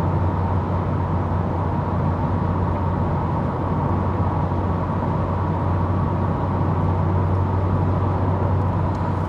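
Steady, loud engine drone from a Honda Civic Type R 2.0 320 heard from inside the cabin at cruising speed, a continuous low hum with road noise and no talking.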